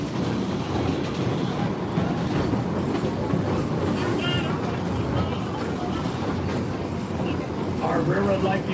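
Rumbling ride aboard a narrow gauge train in Colorado, with a steady loud roar of wheels on rails and car noise throughout, some faint clatter, and people talking over it.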